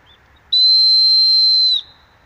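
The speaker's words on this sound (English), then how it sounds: "Let's give this whistle a go." An old metal whistle dug up while metal detecting in the UK gives one shrill, steady blast lasting just over a second, loud and close, with quiet surroundings before and after.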